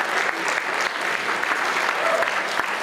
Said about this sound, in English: Big round of applause to our very